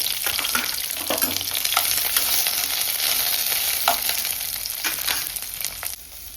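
Steady frying sizzle of onions and green chillies fills the whole stretch, with occasional stirring clinks and scrapes in the pan; no voices.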